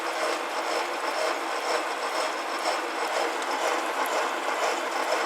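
An ALG 200 milling machine cuts a steel block, giving a steady, dense mechanical grinding whir with a faint ratcheting texture. It runs continuously at close range with no voices.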